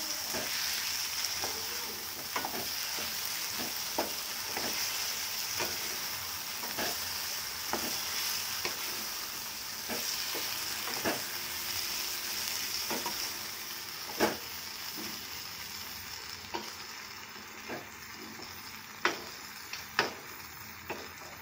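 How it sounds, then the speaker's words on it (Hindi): Masala of tomato with ginger-garlic paste frying and being stirred in a pan, a steady sizzle with frequent sharp scrapes and taps of the spoon against the pan throughout, no speech. "सारे मसाले को एकदम मिला देंगे"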